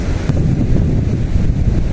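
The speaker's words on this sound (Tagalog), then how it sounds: "Yung tumalsik ang tubig" Ocean water splashes at Siargao island, a loud, rough wash of surf mixed with heavy wind buffeting the microphone, continuous and close.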